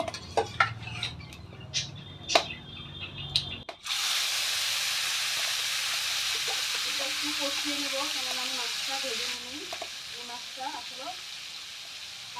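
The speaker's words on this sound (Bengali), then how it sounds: "এই যে ম্যারিনেট করা মাছটা এখন কড়াইতে দিয়ে দিব" Marinated loitta fish dropped into a hot wok bursts into a loud, steady sizzle after a few light clinks of utensils, then keeps frying evenly while a voice talks over it.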